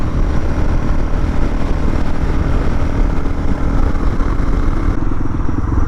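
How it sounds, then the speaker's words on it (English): A pink van speeds past up close, a loud continuous roar of engine and road noise that fills the whole stretch without pause. "And the pink van goes flying past."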